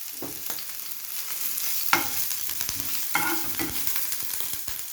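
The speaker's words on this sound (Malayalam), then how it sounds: "വെളിച്ചെണ്ണ ചൂടായി വരുമ്പോൾ അതിനകത്തേക്ക് ഇഞ്ചി വെളുത്തുള്ളി പച്ചമുളക് ഇത് മൂന്നും ചേർത്ത് നന്നായി വഴറ്റുക" Ginger, garlic and green chilli sauté in hot coconut oil, a soft continuous sizzle broken by a few sharper scrapes of a spoon stirring the pan.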